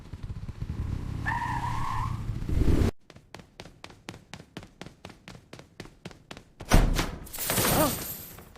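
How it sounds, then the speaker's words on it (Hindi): A cartoon motorcycle roars to life with an engine burst, then putters through a rapid rhythmic chug of regular pulses before revving up loudly again near the end, with a skidding, squealing rush over the loud, close sound. "बाइक की आवाज आ रही है।"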